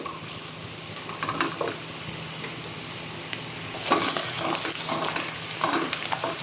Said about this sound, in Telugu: నాలుగు పచ్చిమిర్చి చీలికలు ఇవి బాగా వేయించుకోవాలి మనకు ఇవి బ్రౌనిష్ కావాలి